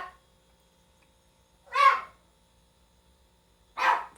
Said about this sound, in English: that's my dog crying in the background